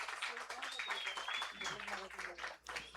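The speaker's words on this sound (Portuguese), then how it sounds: "Uma salva de palmas para ela." An audience at a literary festival applauds a woman writer, a dense wash of clapping heard fairly far off, with voices talking over it.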